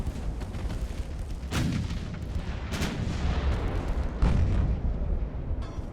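Naval guns firing during a battle in the Ultimate Admiral: Dreadnoughts video game, three heavy booming shots spaced about a second or more apart over a continuous rumbling battle ambience.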